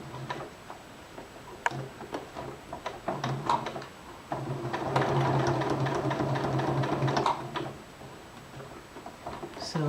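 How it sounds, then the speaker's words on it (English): A sewing machine works slowly over a pinned placket, starting with short ticking stitches and then running in a steadier whir for a few seconds, with a person talking. "I'm going to be careful to sew over the pin"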